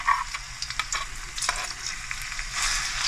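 Garlic frying in a pan crackles and sizzles up close, with stirring scrapes and small pops over a steady hiss, no talking.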